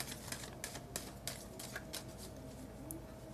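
Tarot cards are shuffled in quick soft riffling bursts, a faint rhythmic patter of card edges repeating about three times per second, close by and quiet over a low steady background hum.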